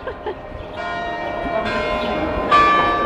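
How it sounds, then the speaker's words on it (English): Church bells ring out across Cortina d'Ampezzo in the Dolomites, a steady, fairly loud peal of layered tones that swells in stages, with light outdoor background noise and no talk over it. "Oh, the bells are ringing."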